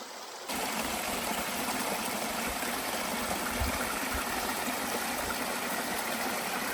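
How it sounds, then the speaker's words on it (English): Steady rushing of a tiny waterfall in a redwood forest in Guerneville, California, water splashing continuously and evenly at close range with no voices. "It's a teeny tiny waterfall."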